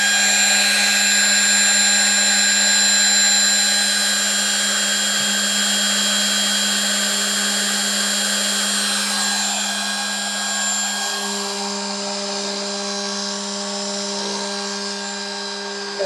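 A small 3018 CNC machine faces an aluminum prototype cover for an early Bronco Dana 20, a continuous loud spindle whine with a steady tone that dips slightly toward the end.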